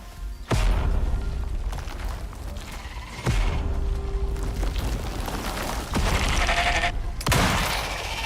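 A heavy gun firing obsidian bullets in the survival game Icarus, three or four loud booming shots spaced a few seconds apart, each followed by dense crackling impact noise and rumble.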